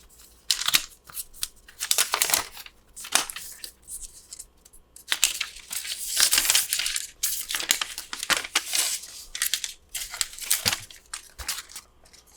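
Protective film is peeled off AirPods Max headphones in close, crinkly bursts of plastic rustling and tearing, coming in irregular spurts with brief quiet gaps between.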